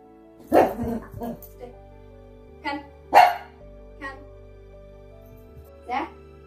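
A Yorkie gives several sharp, high yips and barks spaced a couple of seconds apart, with a faint hum in the background.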